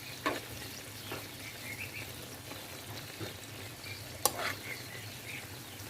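Onions sautéing in a pan on a stove for a Kars-region dish cooked with goose fat, a soft steady sizzle with occasional stirring scrapes and clinks, quiet and close.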